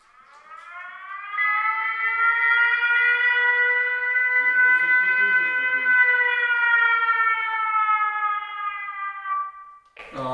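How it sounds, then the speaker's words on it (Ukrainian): A megaphone's loud wailing siren tone rises and holds steady for several seconds, continuous and close, with a brief low rumble partway through before cutting off. "а можна просто вімкнути сирену."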